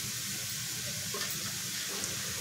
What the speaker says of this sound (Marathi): आपल्याला भाज्या पूर्ण शिजवून नाही घ्यायचे। कोबी आणि शिमला मिरचीमध्ये पाण्याचं प्रमाण खूप असतं, ते कमी करण्यासाठी फक्त आपल्याला भाज्या परतून घ्यायचे